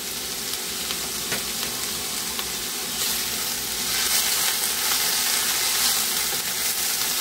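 Chopped spinach hits a hot frying pan for brinjal-spinach sabji, setting off a loud, continuous hiss that swells and stays dense throughout, with faint stirring scrapes underneath.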